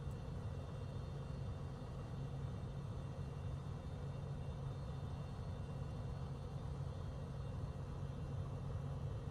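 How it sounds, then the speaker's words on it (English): A Beechcraft Bonanza piston engine taxiing at Chicago O'Hare in Microsoft Flight Simulator gives a faint, steady low drone with no break and no voices. "We're in a little bonanza taxiing around Chicago O'Hare."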